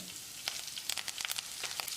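Close, steady sizzling of dried red chillies, green chilli and chopped ginger frying in hot oil, with crackling pops scattered through the short stretch.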